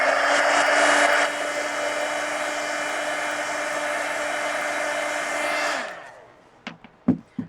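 A hair dryer blows close and loud on a marker-coloured art journal page, a steady whooshing roar with a whine that eases slightly after the first second, runs for several seconds, then switches off, followed by a few light taps and clicks.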